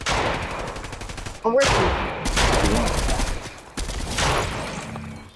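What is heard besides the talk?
gunfire in Fortnite video game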